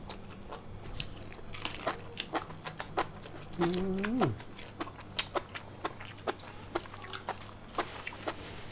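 Crispy squid, salty and spicy, is bitten and chewed up close, giving a run of sharp crunches in an uneven rhythm, with a brief stretch of voice partway through.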